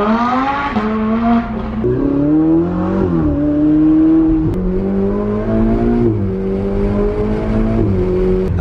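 Ferrari 488 carbon-spec supercar driving off in a convoy, its engine loud and close, revving up through several rising pulls with gear changes between them.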